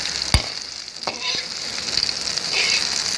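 Akali chilies fry in hot oil with a continuous crackling sizzle, punctuated by a few sharp scrapes of a spatula against the pan.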